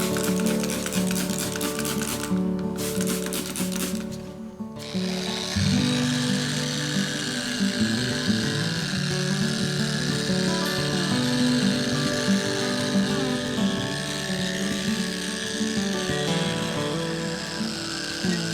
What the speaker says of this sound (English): now that I've sanded down with the 5000 pad